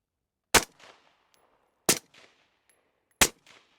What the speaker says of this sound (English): So Dan firing 3 rounds out of the 20-inch AR suppressed had an average sound decibel of 96.